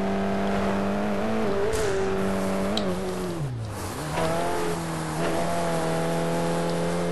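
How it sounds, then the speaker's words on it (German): Racing car in DTM Race Driver 3 on a dry track, its engine droning steadily up close, revving and dropping in pitch through shifts and braking, with brief tire squeals over a continuous loud roar. "Mal sehen, wie sich der Wagen jetzt hier so ohne Regen fährt."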